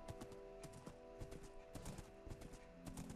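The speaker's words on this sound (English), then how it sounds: "look, there's more horses out here now too" Horses in the Minecraft video game clip-clop repeatedly in an irregular, fairly loud rhythm, with game ambience underneath and no talking.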